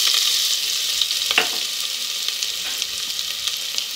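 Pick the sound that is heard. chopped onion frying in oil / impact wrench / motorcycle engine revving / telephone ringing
chopped onion frying in oil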